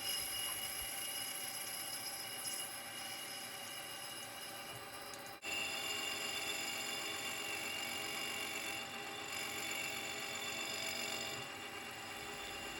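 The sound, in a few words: lathe machining the bore of an aluminium sprocket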